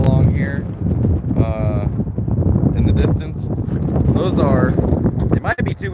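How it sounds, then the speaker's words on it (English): Strong wind buffets the microphone outdoors with desert mountains in the distance, a steady loud rumble running throughout while someone talks over it. "It might be too windy for you to hear me."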